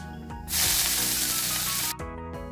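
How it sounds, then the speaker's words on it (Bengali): Chopped hinche greens drop into hot oil with radhuni seeds in a wok, erupting into a loud, bright sizzle for about a second and a half before settling quieter. "কড়াইতে তেল দিয়ে দিতে হবে রাঁধুনি ফোড়ন। হালকা ভেজে এক আটি কুচনো হিঞ্চে শাক দিয়ে দিতে হবে।"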